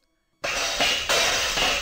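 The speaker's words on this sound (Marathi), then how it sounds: "एक दोन कबशा आणि वाट्या फुटल्याचा आवाज आला" Loud ceramic crashes erupt suddenly after silence, two or three shattering impacts of cups and bowls breaking in quick succession, close and sharp.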